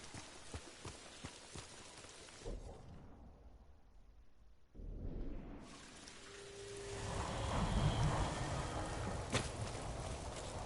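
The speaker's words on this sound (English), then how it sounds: "There's suddenly a real loud thunder bang in the headphones." Rain and a sudden thunder bang in the samurai video game Ghost of Tsushima: steady rain hiss drops out briefly, then a loud low rumbling crash rises and rolls on under renewed heavy rain.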